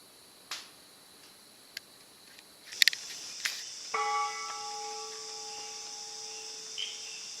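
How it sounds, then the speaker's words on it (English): A forest monastery bell in Sri Lanka rings the call to alms breakfast with a clear, sustained tone that hangs and slowly fades, preceded by a few scattered clicks and knocks in a quiet setting. "Now you can hear the jungle bell. It is an alarm for the alms breakfast."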